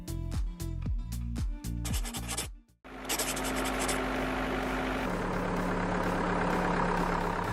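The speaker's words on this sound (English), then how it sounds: "This trimmer is not just a helper, but a brain on wheels" A vineyard trimmer linked to a tractor runs with a steady engine drone. Rhythmic rubbing strokes come first, a brief dip follows, and then a loud, continuous whirring roar takes over.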